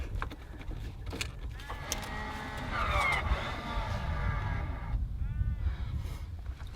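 A caravan's ATC stability system gives its ready signal while the caravan is hitched to a car: short electronic tones sound mid-clip, then a brief chirp, over a low steady background rumble.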